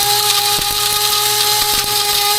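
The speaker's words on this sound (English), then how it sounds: "Put them in my grinder. This is just a little grinder here," A small, cheap electric grinder whirs at a steady high pitch while grinding dehydrated dried peppers, loud and close, with faint rattling pulses as the pieces are chopped.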